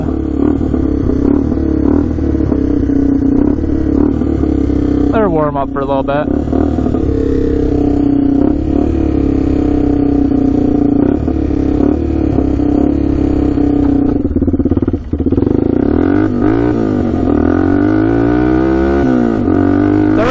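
A used 4x4 ATV idles loudly up close, its exhaust holding a steady rumbling drone with brief revs and a clunk, while someone talks over it.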